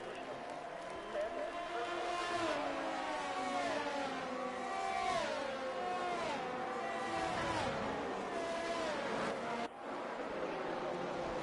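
Formula 1 cars in a racing video game at the Bahrain Grand Prix rolling through the formation lap, a steady layered engine drone with shifting pitches from several cars, continuous and fairly loud, with a commentator talking over it.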